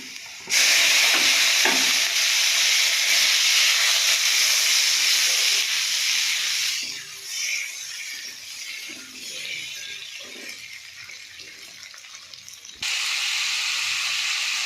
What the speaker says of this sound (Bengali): এবার আমি এর মধ্যে আলুটা ঢেলে দেবো।